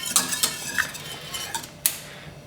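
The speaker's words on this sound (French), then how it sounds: "on va se contenter de faire fondre ça tout doucement et on va tourner petit à petit" A spoon scrapes and clinks against a pan while stirring diced Maroilles cheese melting slowly in hot cream, producing a few sharp, close metallic taps spaced irregularly over a quiet background.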